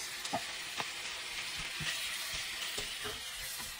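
Tomatoes sautéing with garlic and onion in a pan make a continuous sizzle broken by repeated scraping stir strokes, each a short crackling burst, close and clear, with no voices.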